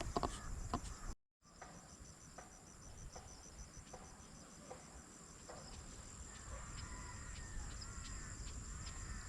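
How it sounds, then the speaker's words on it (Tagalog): Faint crows caw several times in the distance over a steady chirring of crickets during a string bean harvest, with a brief dropout near the start. "dami po ng uwak"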